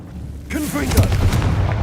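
A Confringo blasting spell from Hogwarts Legacy goes off with a sudden loud boom after a short quiet lead-in, followed by a crackling, warbling magical tail that keeps ringing for a second.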